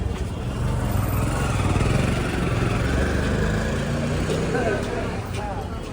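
A motorbike engine rumbles steadily and loudly close by on a cold winter day, a continuous broadband drone with some traffic noise blended in.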